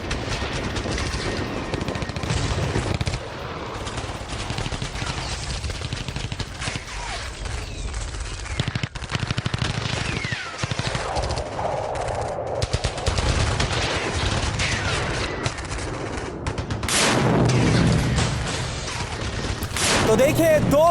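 Sustained gunfire from a battle between Hamas fighters and Israeli forces in Jabalia, loud, dense bursts of automatic fire and cracks continuing for about twenty seconds, mixed with rumble and a voice speaking over it.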